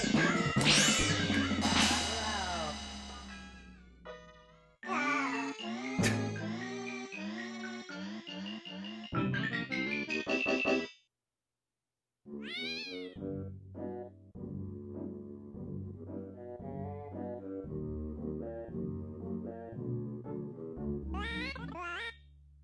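Cartoonish meows from a cat character in the video game Pac-Man 2: The New Adventures ring out repeatedly, mixed in with bright game music and effects, with short gaps of silence between bursts.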